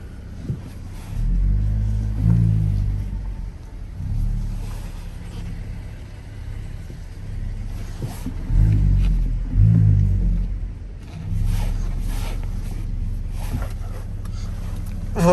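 Opel Astra driving back to a garage, a low steady engine rumble and road drone from inside the car with gentle swells as it accelerates, continuous throughout.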